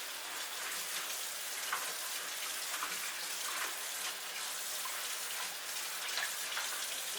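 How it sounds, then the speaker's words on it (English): Blackberries being rinsed under running water, a steady soft hiss of flowing water with faint patters, continuous and fairly quiet throughout. "I'm just going to do a quick rinse of these."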